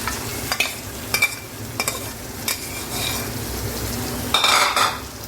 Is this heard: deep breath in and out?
no